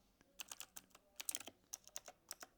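Rapid, uneven keystrokes clatter on a new computer keyboard, close and quiet, with clustered taps and short pauses while coding.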